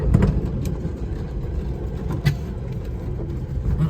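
A 1972 Plymouth Road Runner GTX replica's engine runs nearby with a low, rumbling idle, a few small blips of throttle punctuating the steady drone.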